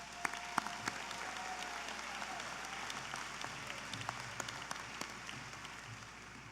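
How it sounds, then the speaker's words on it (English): An audience at a high school commencement ceremony applauds. The clapping is steady and dense, with scattered louder claps, and sounds somewhat distant. "Let's give them all a round of applause."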